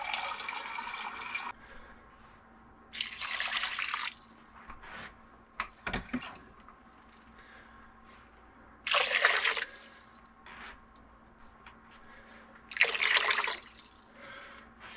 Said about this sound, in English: that's really not enough water, so we'll give it another few cups of water